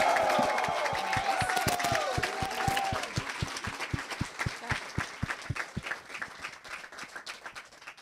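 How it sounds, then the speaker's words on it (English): Live audience applause with some cheering at a celebration event, dense clapping at first then thinning into scattered individual claps that fade toward the end. "this one's my boss, so give an extra cheer"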